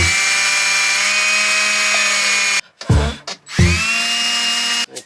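A power drill fitted with a diamond bit whines loudly and steadily for a few seconds, stops, gives a couple of short bursts, then runs again before cutting off.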